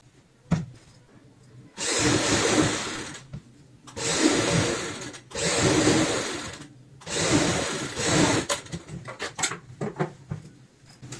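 A sewing machine stitches a zipper with double pullers onto a travel bag made from old jeans, running in four steady bursts of about two seconds each with short pauses between and a few light clicks at the end.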